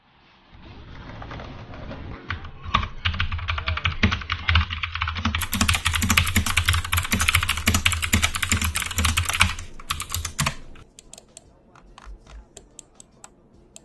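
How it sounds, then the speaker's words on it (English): Rapid, clacky keystrokes on a Lofree Milk Tea typewriter-style keyboard at a desk setup, a dense close-up burst of typing lasting several seconds, with faint bird cooing in the background. "I got the Milk Tea typewriter keyboard."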